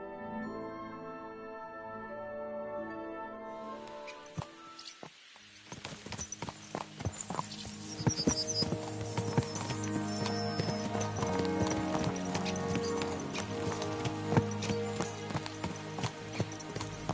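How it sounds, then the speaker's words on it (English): Horses trotting in the medieval video game Kingdom Come Deliverance 2, steady rhythmic clip-clop of hooves up close, starting after a short stretch of music and continuing evenly to the end. "Let's really spur these horses on, eh?"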